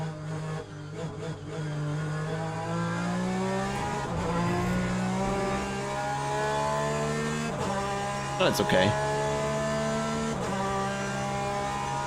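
Porsche race car engine heard onboard in Le Mans Ultimate, a steady layered drone that shifts pitch through gear changes, with brief rising revs near the end, under occasional talk.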